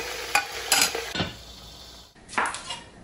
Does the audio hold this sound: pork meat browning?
yes